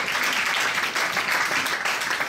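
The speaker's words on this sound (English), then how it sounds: "Clap for Jesus now." A church congregation claps during a sermon, producing a brief, loud and continuous burst of many hands with no voices above it.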